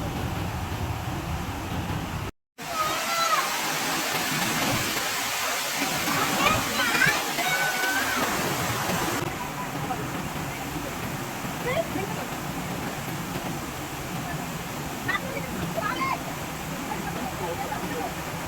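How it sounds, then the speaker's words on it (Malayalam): A waterfall near Kollengode, Kerala, pours with a continuous broad rushing roar, steady and close, and faint voices sit beneath it. "വെള്ളം ചാടുന്നത് ഇവിടെ."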